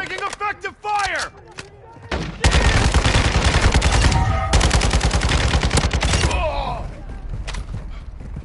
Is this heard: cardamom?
no